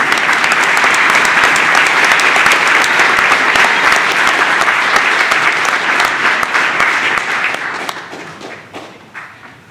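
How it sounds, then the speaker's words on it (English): Loud, sustained applause from a school board meeting audience honouring students and directors, dense clapping close and full for about eight seconds before thinning out and fading to a few last claps. "one more round of applause, please"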